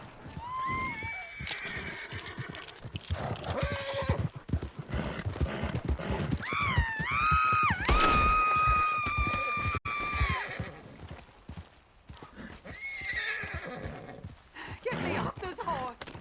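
A horse in Red Dead Redemption II whinnies loudly several times with rising, wavering cries, over hoof clip-clop and game sounds, with voices speaking around the calls.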